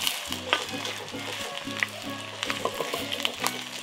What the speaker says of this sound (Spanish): Como ya quedó la salsa, ya está hirviendo, lo voy a poner el requesón